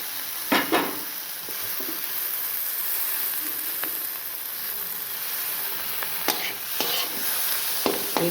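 Tomatoes fry in oil for an egg curry, with a steady close sizzle and hiss under occasional stirring scrapes and clanks of a spoon against the pan.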